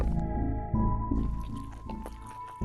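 A character drinks water in the Life Gallery video game: soft squishy gulps and drips over sustained tonal game music, close and moderately quiet.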